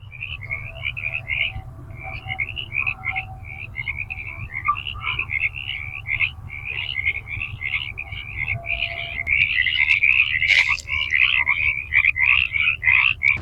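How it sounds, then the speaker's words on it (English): A chorus of frogs croaks continuously in rapid, overlapping chirps over a low steady train rumble at Mojave Narrows, growing louder and denser toward the end. "Can you hear all the frogs amongst the train?"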